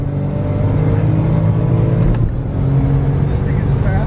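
Car accelerates hard nearby, a loud engine roar and whir rising and holding over a few seconds, with excited voices talking over it.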